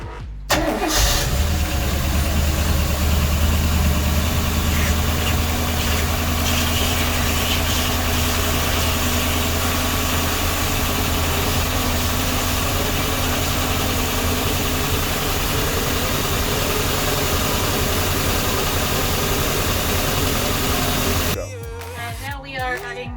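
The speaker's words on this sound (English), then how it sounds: "So we are about to start the engines" The engine of a Luhrs 320 Sportfisherman boat cranks and catches during winterizing, then settles into a loud, steady low rumble that runs on without a break before cutting off near the end.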